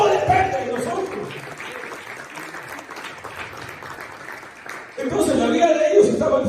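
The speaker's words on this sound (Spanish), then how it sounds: "Dele palmas al Señor." A church congregation claps for the Lord during a Spanish-language sermon. Dense, continuous applause fills the room, dips briefly, then swells again, with a preacher's voice heard under the clapping.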